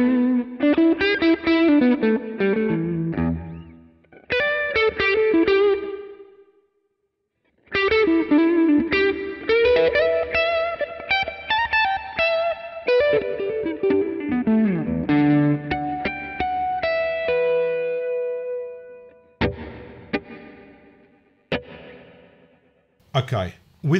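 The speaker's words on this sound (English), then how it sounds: "Okay, with reverb and delay modules," Distorted electric guitar plays through a NUX Trident pedal's reverb and delay effects, chords and single-note runs ringing out with echoing tails, short pauses between phrases and a final few sparse stabs fading away.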